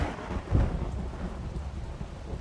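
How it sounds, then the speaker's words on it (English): A cartoon thunderstorm with steady rain pattering and a low rumble of thunder swelling briefly near the start, moderately loud and without voices. "it immediately starts raining"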